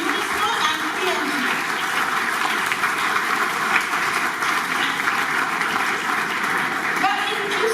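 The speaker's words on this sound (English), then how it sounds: "A loud round of applause for UNESCO and PNG." Sustained audience applause at a formal launch event on menstrual health and hygiene, a broad, even roar of many hands clapping at a steady level for several seconds with faint voices mixed in.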